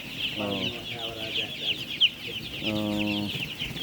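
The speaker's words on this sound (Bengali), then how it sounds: "জাহাঙ্গীর ভাইয়ের হচ্ছে কালার বার্ড মুরগির খামার" Hens cluck in two short bursts of nasal clucking on a Color Bird chicken farm, close by, over constant high-pitched chick peeping and a brief knock.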